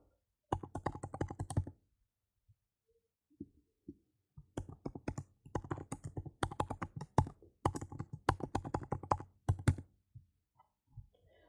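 Typing on a computer keyboard while entering a short description into a CRM form, with a quick burst of keystrokes, a pause, then a longer run of close, crisp clicks.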